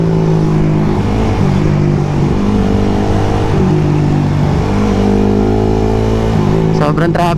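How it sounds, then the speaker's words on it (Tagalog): Motorcycle engine being revved hard while riding on a highway toward Manila, a loud, close, buzzing drone whose pitch climbs and shifts through the run, with wind buffeting near the end. "binibirit na ni Mario."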